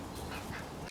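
Backyard ducks, including a broody hen, quack in a dense, continuous chatter close by, with overlapping calls filling the whole moment before a brief dip at the end.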